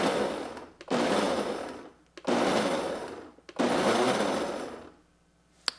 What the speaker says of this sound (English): what I'm going to do first is go ahead and pulse a couple times just to mix everything up